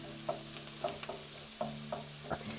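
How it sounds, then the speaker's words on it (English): Finely minced garlic frying in a pan: a soft, quiet sizzle broken by a handful of light scraping taps as a spatula moves it around. "I've got 3 garlic cloves, finely minced right here. I'm gonna move them around for about 1 minute."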